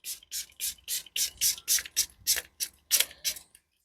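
A rapid run of about a dozen short, sharp hissing bursts, evenly spaced and close, from a spray bottle misting a resin domino box to pop bubbles, ending in silence.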